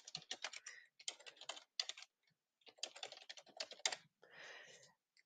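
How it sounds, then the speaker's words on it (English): Quick clusters of key presses on a computer keyboard, close and clean, as a name and email address are typed in short bursts separated by brief pauses. "type in your name and email address here"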